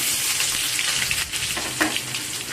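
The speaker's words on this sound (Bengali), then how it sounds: "ফোড়নটাকে একটু ভালো করে ভাজা ভাজা করে নেব" Dried red chillies, a little sugar and whole cumin sizzle steadily in hot oil. The crackle is loud and continuous, with a few brief stirring clinks.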